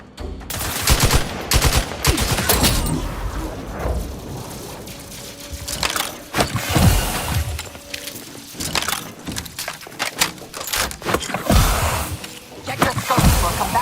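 Rapid bursts of gunfire from The Outer Worlds 2 rattle almost continuously, with automatic volleys and sharp impacts close and loud, a brief radio-style voice faintly underneath.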